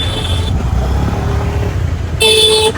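Road traffic in a jam, with a steady engine rumble close by and car horns honking, one long blast at the start and another loud tone near the end.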